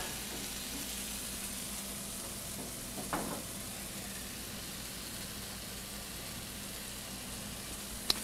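Spinach flash fries in a pan previously used for salmon teriyaki, giving a constant, even sizzle with a brief stirring scrape partway through and a faint click near the end, no talking.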